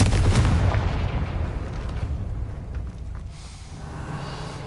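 A Confringo blasting spell explodes in the video game Hogwarts Legacy, a loud booming burst at the start that rolls into a long, rumbling tail fading over several seconds.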